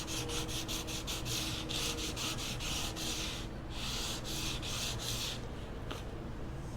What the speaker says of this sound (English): I have a piece of sandpaper here. It's a 180 grit, so let's sand this down a little bit